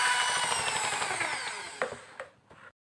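A power drill is used as a mixer for Bangka-style martabak batter. The motor whines steadily, winds down with a falling pitch, and then gives a few sharp clicks before going quiet.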